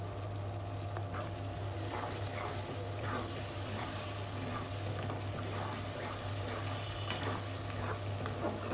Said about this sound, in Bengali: আমার কষানো হয়ে গেছে